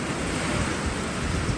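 Severe spring thunderstorm with strong wind in southeast Ohio, a loud continuous roar of gusting wind and rain filling the whole short stretch with no voices.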